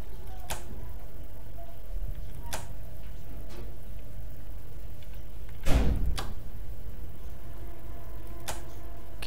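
A door is opened in the video game Resident Evil 2, marked by a loud mechanical clunk and rattle near the middle. Sharp ticking clicks sound at intervals around it against a quiet, steady background hum.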